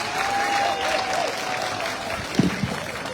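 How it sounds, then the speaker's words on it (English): Applause from the audience at a Diaspora Kissi community honoring ceremony for Liberia's president, a moderate sustained clapping wash in a room, with a few brief louder knocks near the end. "Well, the applause from the folks."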